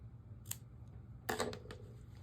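Scissors snip through yarn while finishing a Fair Isle knitted beanie, giving a couple of crisp, close-up cuts with a short pause between them in an otherwise quiet room.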